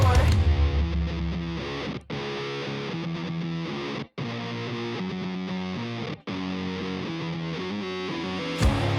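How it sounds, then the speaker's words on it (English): Isolated guitar stem from a rock band, a distorted guitar holding single notes with a secondary lower pitch sounding beneath each one, played in phrases separated by brief silences, loud and with no voices. "There's the regular guitar pitch and there's that secondary pitch below it."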